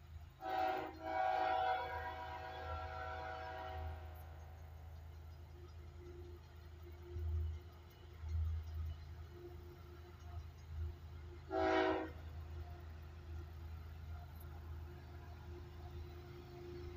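Norfolk Southern autorack and intermodal freight train rolling past in Toccoa, Georgia: a steady low rumble of cars throughout, with two loud horn blasts, one long and one short, standing out above it.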